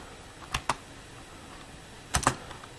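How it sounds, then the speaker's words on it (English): A few soft clicks on a computer keyboard while typing a chmod command, a pair of keystrokes early and a quick cluster later, quiet and close with no talk. "To do that, you have to type chmod plus X"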